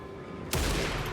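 A single sharp gunshot from the video game Alan Wake 2 cracks out loud and close after a quiet stretch, then rings on with a broad, noisy tail.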